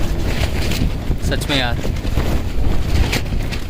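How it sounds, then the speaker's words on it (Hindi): Strong wind from a snow storm at a mountain night camp on the Triund trek roars steadily and buffets the microphone, while someone speaks briefly over it. "इतनी तेज़ हवा है ना यार"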